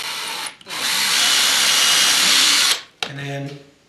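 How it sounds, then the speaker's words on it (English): A power drill bores pilot holes into wood while a jig part is held against a fence: one loud, steady whine of about two seconds, with brief handling noise before it and a voice talking right after. "and then drill pilot holes."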